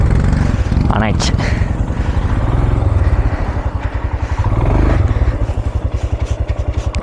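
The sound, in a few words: motorcycle engine running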